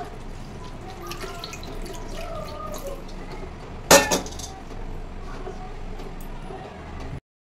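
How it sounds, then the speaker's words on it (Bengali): Squeezed bottle gourd water goes into fried spice masala in a pan, a sudden loud splash and hiss midway, with quiet background clatter before and after. "এবার যে লাউ চিপে জল বেরিয়েছিল ওইটা দিয়ে দেবো।"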